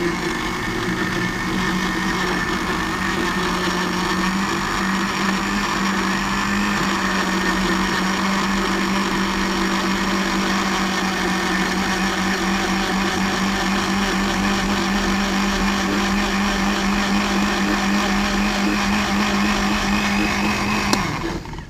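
A blender runs continuously at close range with a steady, loud motorized whir and hum, no pauses, then cuts off at the very end.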